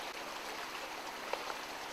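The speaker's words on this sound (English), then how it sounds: "I fill my water bottle up." A water bottle is filled in a clean, flowing river, with a steady broadband rush of stream water throughout and a couple of faint splashy gurgles near the end.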